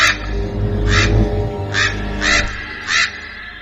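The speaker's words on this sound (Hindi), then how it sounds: "कुछ कौवे वहां छत पर बैठे आवाज कर रहे थे" Several harsh crow caws ring out one after another at uneven intervals, loud and close, from crows on a rooftop, over a low rumbling background.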